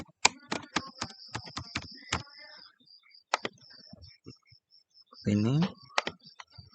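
Rapid clicks of a password being typed on a computer keyboard come in a quick burst of separate taps, then a few scattered keystrokes, with a brief spoken word near the end.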